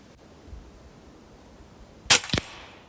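A Hatsan Sortie semi-automatic air pistol firing at 20 metres with open sights, one sharp crack followed shortly by a second impact snap, close and abrupt against a quiet outdoor background.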